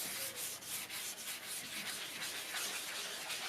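Fine sanding by hand with roughly 200-grit paper over a fatty lacquer filler coat on a piece of rustic furniture: a steady, close, dry scratching rub in quick repeated strokes, with no talking.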